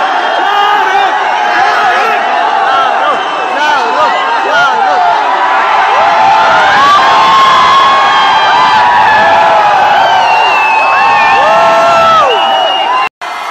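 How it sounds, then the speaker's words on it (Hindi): A dense crowd of fans outside Mannat cheers and whoops for Shah Rukh Khan at night, loud, continuous and close, with shouting voices and chatter throughout before an abrupt cut. "जब शाहरुख खान सर आए थे मन्नत, रात को 12:30 बजे वो आए थे, तो तब भीड़ का क्या आलम था"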